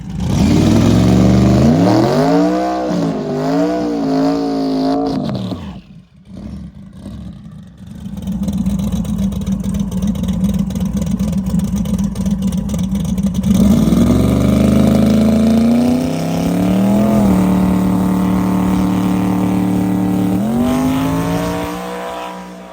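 A Chevy Nova drag car launches down the strip, its engine roaring loud and rising through the revs, then dropping off briefly before another long, harsh run of revving and settling back toward idle.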